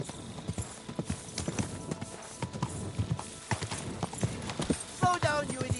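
Horse galloping in the video game Kingdom Come: Deliverance 2, with quick rhythmic hoofbeats and a brief whinny near the end, while someone talks over it.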